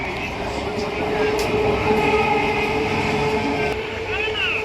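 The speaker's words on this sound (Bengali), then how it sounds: "এটা কোন ট্রেন বেরিয়ে গেল রে শিয়ালদা শিয়ালদা লোকাল তো ঠিকই" A Sealdah local train passes close by with a loud, steady rumble of wheels and carriages that holds for several seconds, then a few high whining tones rise near the end.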